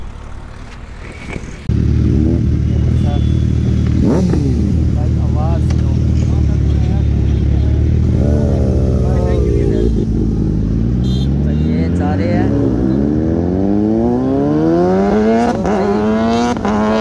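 A Suzuki Hayabusa motorcycle engine revs up loudly and repeatedly at close range, its pitch climbing in rising sweeps through the second half, after a quieter idle at the start.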